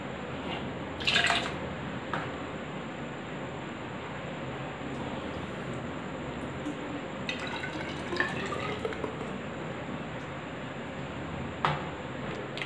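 Water drawn from a fermenting guava wine batch for a hydrometer gravity check: a few brief, soft splashes and drips spaced several seconds apart over a quiet, hissy room background.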